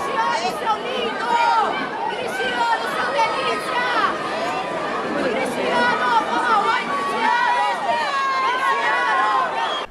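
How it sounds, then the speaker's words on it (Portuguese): Thousands of fans fill the stands at Estádio Moisés Lucarelli in Campinas, applauding Portugal's players at their first World Cup training in Brazil; a loud, dense crowd roar of chatter, cheers and shrieks runs continuously. "milhares de pessoas aplaudiram os jogadores lusos"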